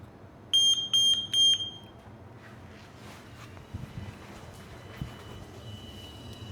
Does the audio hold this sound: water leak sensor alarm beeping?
yes